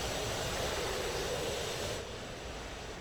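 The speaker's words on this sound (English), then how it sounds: "So this is the F-16 flight, that's number 2, and the JF-17 is taking off." A JF-17 fighter jet taking off in the DCS flight simulator, a continuous loud engine roar that holds steady, then drops slightly in level and loses its high end after a couple of seconds.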